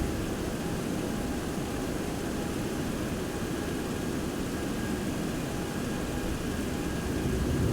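Inside the cockpit of a Boeing 727-200 climbing just after rotation as the landing gear retracts, a steady, even roar of engines and rushing air fills the cabin without pause.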